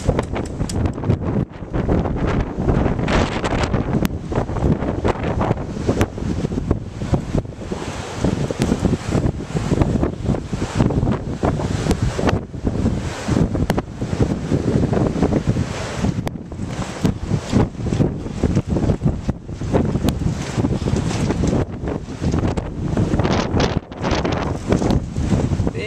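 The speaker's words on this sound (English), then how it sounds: "I don't like the wind, especially at the Jersey Shore." Strong wind buffeting the microphone on a Jersey Shore beach at Seaside Heights near a breakwater under construction, a loud continuous roar with constant gusty rumbling and surf-like wash for the whole stretch.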